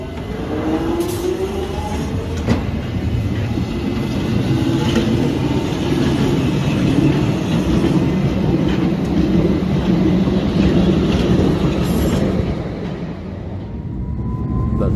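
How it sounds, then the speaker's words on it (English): A London Underground Metropolitan line train rumbles through a single-line tunnel toward Baker Street, a loud, steady roar with faint rail clatter, easing slightly near the end. "Our train enters the first of a few single line tunnels to Baker Street."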